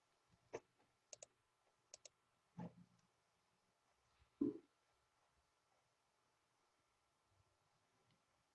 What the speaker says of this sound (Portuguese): Não precisa ficar só digitando, não.